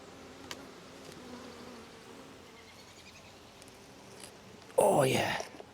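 Honey bees buzz at an opened hive, a faint steady hum running low and constant, then swelling into a louder, denser burst of buzzing near the end.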